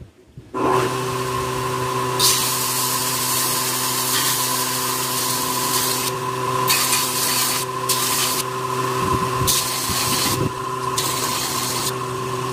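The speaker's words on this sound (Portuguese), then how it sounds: "Por exemplo, eu quero lixar mais nessa parte, ó." A knife blade is sanded by hand on sandpaper with a magnet pressed behind it for polishing, giving a continuous loud rasping rub with rhythmic strokes and no talk.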